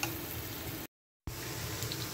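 Chilli garlic mixture sizzling steadily in a pan with a soft continuous hiss, broken by a brief moment of silence before the frying resumes.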